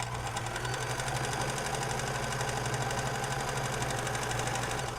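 A freshly cleaned and repaired sewing machine runs continuously at a fast even pace, its motor whirring with a rapid rhythmic clatter of the needle mechanism, close and steady throughout.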